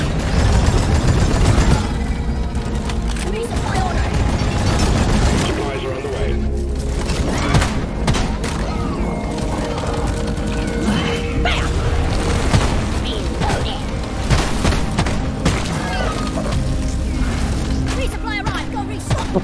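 Rocket explosions and heavy weapon fire in the co-op mining shooter Deep Rock Galactic, a dense, loud and continuous battle din with booming blasts and mechanical clatter throughout, mixed under shouted team talk.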